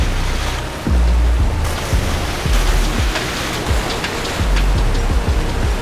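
Rushing water of a waterfall in the video game Star Trek Online, a loud steady roar of spray with recurring low thumps, heard without voices.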